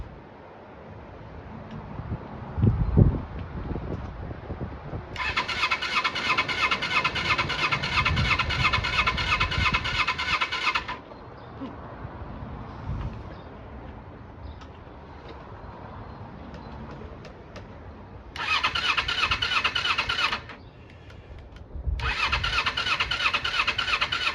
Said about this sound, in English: I don't want to burn the starter motor out